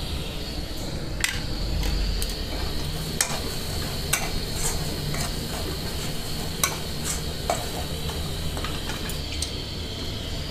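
Bottle gourd and egg curry sizzles steadily in a pan while a utensil stirs it, with sharp clicks and scrapes against the metal scattered over the continuous frying hiss; close and fairly loud, no talking.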